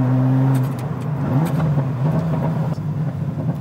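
A Ferrari F40 engine revs hard, its deep tone holding steady and then rising and falling through sweeps of throttle, loud and close with no talk.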